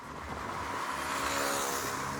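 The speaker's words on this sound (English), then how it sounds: "The exhaust sings a deep and raspy note once you get going" A Bajaj Dominar 250 motorcycle engine and exhaust, a steady deep and raspy drone under way, loud and continuous with no voices.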